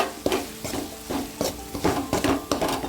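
Bitter gourd sizzles in a pan while a spoon scrapes and stirs in quick repeated strokes, close and fairly loud.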